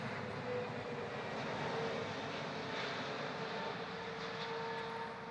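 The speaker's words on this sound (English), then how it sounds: "We may wait for the planes to pass over." Airplanes pass overhead near a performance venue, a steady, fairly distant engine roar that swells slightly and then holds without a break throughout.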